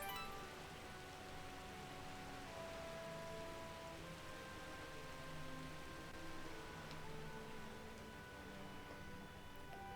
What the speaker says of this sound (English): Nice when the rain lets up just as you leave the harbor.